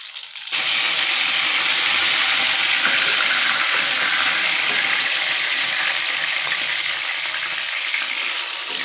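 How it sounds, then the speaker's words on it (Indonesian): Sliced eggplant frying in hot oil until soft gives a loud, steady sizzle that holds evenly from just after the start to the end, with no voices. "Kita lanjutkan pada proses menggoreng terong ini. Kita goreng sampai empuk."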